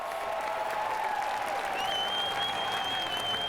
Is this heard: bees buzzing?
no